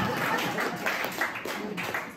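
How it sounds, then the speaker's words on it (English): Scattered, modest applause from a small crowd, soft and somewhat distant, lasting a couple of seconds. "Round of applause for our front line."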